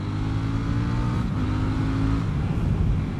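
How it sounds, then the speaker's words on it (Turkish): A 2018 KTM Duke 790 motorcycle at high speed gives a steady, loud engine drone with rising tonal harmonics and strong wind rush, continuous throughout. "bu motorun olayı şu ki bu motor gidiyor aga. Harbi gidiyoruz yani."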